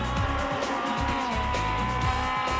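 Aussie Racing Cars roar around the Adelaide street circuit during a race, a loud continuous engine drone with shifting pitch and brief tire squeal, heard from on board without any talk.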